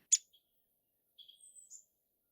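A downy woodpecker calls at a backyard peanut feeder with one sharp, high chirp, followed a second later by a short run of thin, squeaky notes, all faint and with nothing else heard.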